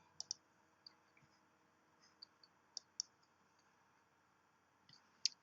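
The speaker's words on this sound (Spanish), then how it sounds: "Entro con el doble clic para configurarlo" Computer mouse clicks, a few quick double-clicks spaced irregularly, crisp and close in a quiet room.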